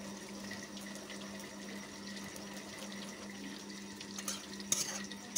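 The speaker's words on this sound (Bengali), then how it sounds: "এখন আমি পরিমাণ মতো জল দিয়ে ঝোলটা দিয়ে দেব।" Water pouring into a cooking pot for a fish and potato curry, a steady close splashing and trickling stream with a few clinks near the end, no voices.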